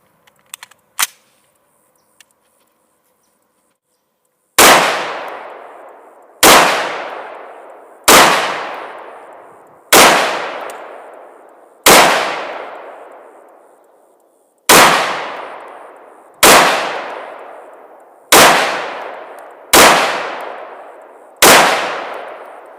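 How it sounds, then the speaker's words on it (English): CZ BREN 805 pistol fired without a brace, ten loud, sharp shots with ringing decay, spaced about two seconds apart and split into two groups of five, after a few faint handling clicks. "we're going to do 5 center of mass shots and 5 head shots without the brace"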